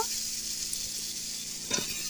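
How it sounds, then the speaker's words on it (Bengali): Steady hissing sizzle of potatoes frying in hot oil in a wok, continuous and close, with a brief stirring clatter near the end. "তেলও গরম করে নিয়েছি আলু ভেজে নেব"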